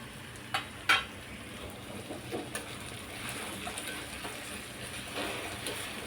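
Jaggery being stirred into raw mango pieces for a homemade muramba, with soft scraping and a few light clicks against the pan, faint and steady with no talking.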